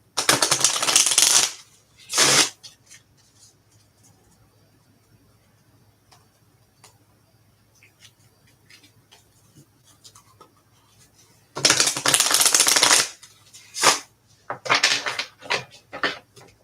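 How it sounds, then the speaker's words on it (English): Personal Power Oracle card deck being shuffled by hand, loud close riffling bursts at the start and again later, separated by quiet stretches with faint ticks and a low background hum. "Let me start shuffling this one."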